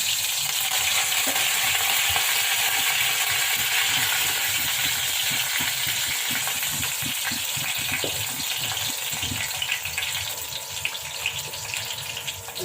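Cumin seeds, coriander and curry leaves sizzle in hot oil while dal is tempered, a loud continuous frying hiss with bubbling crackle that holds steady and eases slightly toward the end.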